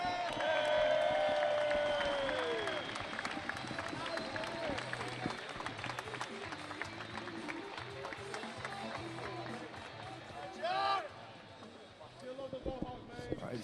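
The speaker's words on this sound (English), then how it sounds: "let's give a round of applause for the legend of mixed martial arts." Arena crowd at an MMA event applauding and cheering for a mixed martial arts legend, a broad roar of claps and shouts that stays loud throughout, with an announcer's amplified voice and music running over it.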